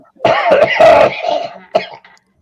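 A close, loud fit of coughing: several rough, hacking bursts in quick succession, then one last cough after a brief pause.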